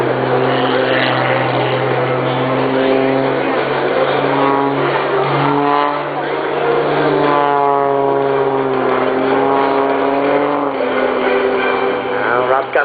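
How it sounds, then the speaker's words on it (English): A Humboldt MX2 aerobatic plane tumbling tail over nose at a Rochester NY air show, its propeller engine roaring loudly and continuously with rising and falling pitch as the power changes, and a commentator's voice partly audible beneath it. "Watch Rob use the lateral energy of the aircraft this time to perform this perfect tail over nose tumble."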